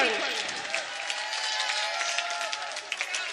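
An audience claps for a shayari recital, a steady, dense burst of applause that fills the whole short stretch, fairly close and uniform.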